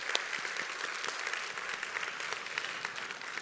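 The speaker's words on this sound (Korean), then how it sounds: "박수를 보내드립니다." A church congregation at a Sunday service claps warmly, steady even applause filling the room for several seconds without any voices.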